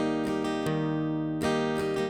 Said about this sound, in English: And follow it with a strumming pattern in 4-4 which looks like this and sounds like this.